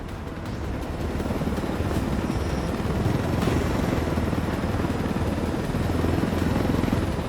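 A helicopter flies through a video game scene, its rotor giving a loud, steady, dense chopping roar that holds throughout without letup and without speech.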